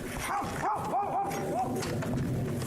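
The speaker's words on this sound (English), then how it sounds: "he hears his dog barking like crazy" A dog barks several times in quick succession, somewhat muffled and distant, over a background of low rumbling noise.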